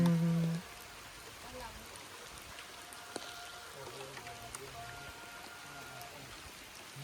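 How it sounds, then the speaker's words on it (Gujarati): Heavy rain falls in Balagam Ghed, a soft, steady hiss in the background after a brief loud burst at the start, with voices talking over it. "વરસાદ ચાલુ થઈ ગયો ને પલારી મૂક્યા"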